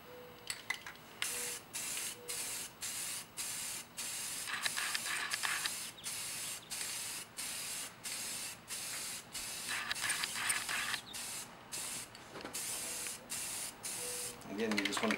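Short repeated bursts of aerosol spray paint coat an Iron Man helmet, a bright hissing spray in a steady rhythm of roughly one-second pulses with brief gaps, close and fairly loud, with no talking over it.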